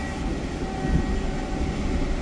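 A Mataram passenger train departing Pasar Senen station rumbles steadily close by, a low rolling roar with faint tonal hum, continuous and fairly loud.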